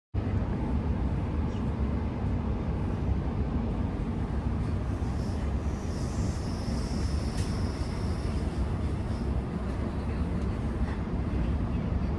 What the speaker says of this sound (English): I'll be taking this train to Hornsby